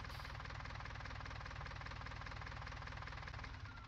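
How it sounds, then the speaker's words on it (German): A tractor engine idles in Landwirtschafts-Simulator 19, a loud, steady, throbbing drone with a rapid regular pulse that holds close and even until it fades slightly at the very end. "So, machen wir mal schnell den Motor aus."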